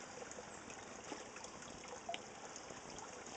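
Water drains steadily out of a garden pond through a white hose, a faint continuous trickle and gurgle running alone at low volume for the whole stretch.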